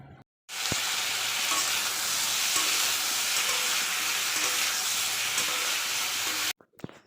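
Steady, loud sizzle of a ridge gourd being fried in a pan, hissing continuously for several seconds after a quiet start and cutting off near the end, with no talking.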